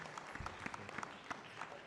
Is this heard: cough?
no